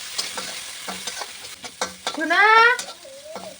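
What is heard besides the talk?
onions, garlic and salt frying in hot oil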